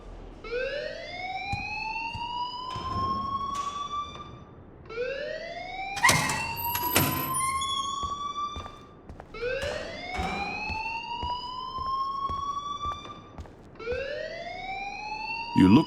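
Rising, wailing alarm in the video game Life Is Strange, sweeping upward repeatedly in long cycles about every four seconds, loud and continuous, with a voice speaking and some clatter partway through.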